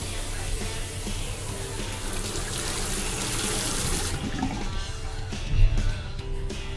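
Strong, loud rush of water from a toilet flush or tap in a washroom, a steady hissing stream that shifts in tone partway through, no talking.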